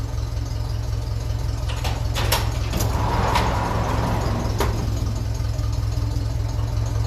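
A 1957 Ferguson 35 tractor running on TVO idles with a steady low, throbbing engine rumble, close and loud, with a few faint clicks and knocks over the top.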